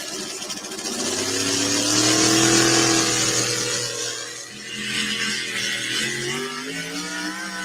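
Pulling truck at a truck pull event, loud engine revving and climbing in pitch as it strains down the track, then easing off and surging again, close and continuous with no talk over it.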